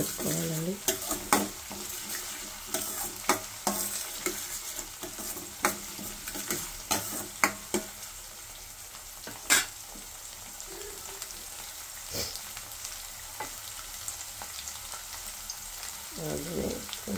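Broad bean curry being lightly fried in a pan, with a low steady sizzle under frequent sharp scrapes and clacks of a spoon stirring, denser at first, then sparser and quieter.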